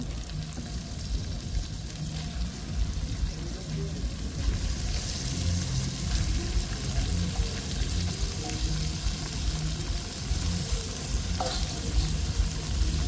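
Meat sizzling and frying in a pan with spices, a steady crackling hiss that grows slightly louder as the pieces go in, with a voice talking over it and occasional stirring clinks.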